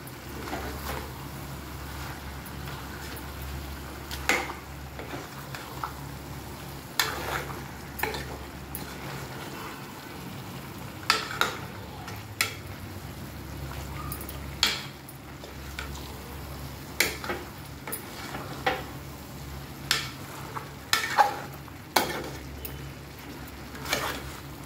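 Curry frying in a pan right after coriander powder is added, giving a low steady sizzle with a string of soft clinks and scrapes as it is stirred at close range.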